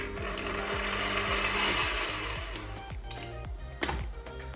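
A stand mixer churns cookie dough with cocoa powder and cooled butter, making a steady close motor whir with rhythmic clicking and ratcheting knocks from the paddle throughout.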